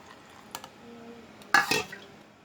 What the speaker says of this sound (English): Ladle, ladle, ladle, ladle out of vinegar and water.